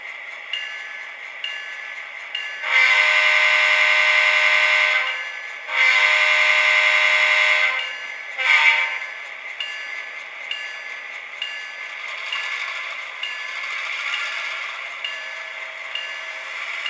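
A model train sound decoder on a Western Oregon Railroad layout blares two long electronic horn blasts and a short toot, then settles into a faint chuffing running loop, with no voices heard.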